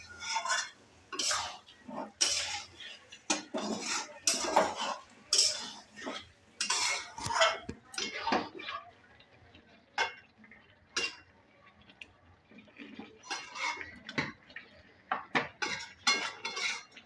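Afghani chicken stirred in a metal pan, with frequent sharp clinks and scrapes of a utensil in uneven bursts, close and fairly loud, and no speech.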